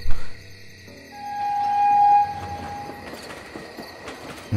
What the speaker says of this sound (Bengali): বেশ খানিকটা এসেছে ট্রেনটা।